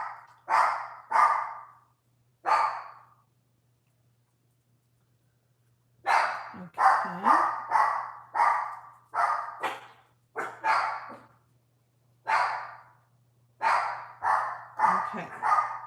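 A small dog barks in repeated sharp bursts, a few yaps, a pause, then a longer run of rapid barks close by, with a brief spoken word from a person during a crafting session at home.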